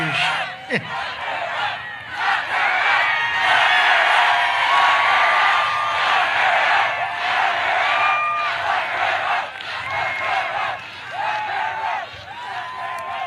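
A large, lively crowd at a political rally in Miami, Florida roars with sustained cheering, whoops and whistles, loud and steady, swelling and easing slightly over the stretch.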